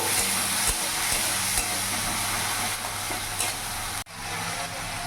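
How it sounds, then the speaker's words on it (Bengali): Coriander powder being stirred into a sizzling masala frying in a pan for silver carp curry, with a steady close frying hiss and soft scraping strokes throughout, plus a brief dip near the end. "যাতে মশলাটা লেগে না যায় ভালো করে মিশিয়ে নেব"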